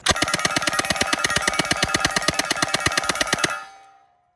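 A Thompson submachine gun fires a long, loud, rapid automatic burst of evenly spaced shots, about three and a half seconds, then the echo fades away.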